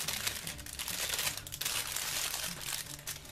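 A cardboard parcel from China holding a Casio G-Shock watch is opened, with close, busy crinkling and crumpling of packing material in quick bursts, heard alone without speech.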